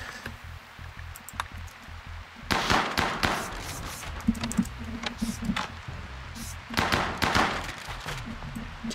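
Shotgun blasts in a video game fight against a hostile web-shooting spider: two clusters of loud, sharp bursts separated by a quieter stretch of low rumble and scattered impacts.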